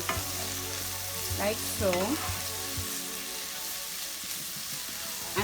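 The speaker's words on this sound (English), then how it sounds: "So I'm just going to saute everything together" Vegetables sauté in a pot on the stove with a soft continuous sizzle and stirring scrapes; a voice speaks briefly near the start over a low hum that cuts out midway.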